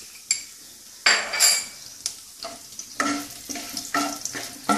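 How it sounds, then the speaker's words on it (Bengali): Whole garam masala and cumin seeds sizzle in hot oil as they are tempered for a Bengali potol malaikari, with sharp bursts of frying, spoon scrapes and pan clatter that come and go close up. "গোটা গরম মশলা ফোড়ন দিলাম"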